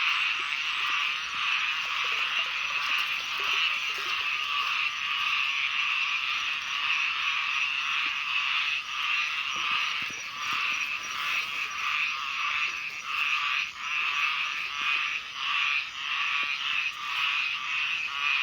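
Frogs croak in a rain-season pond at night near a farm field, a dense, steady chorus of many callers filling the whole stretch without pause, loud and close with no voices over it.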